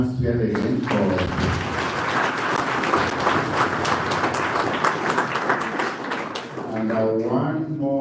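Conference audience applause at a 2024 gathering on corruption, with a broad, sustained round of clapping from a large crowd and voices speaking over it at the start and again at the end.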